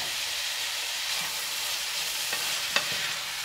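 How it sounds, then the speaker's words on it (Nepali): Chopped tomatoes tipped into a hot pan while making pasta, giving a steady broadband sizzle with faint stirring scrapes and a couple of brief clinks near the end. "र साथसाथमा साथीहरू मैले यसरी काटेर राखेको टमाटर पनि राखेँ।"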